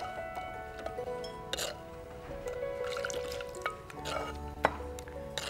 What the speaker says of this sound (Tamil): இந்த சமயத்தில் நாம் அந்த அரைச்சி வச்சுருக்க கலவை சேர்க்குறோம்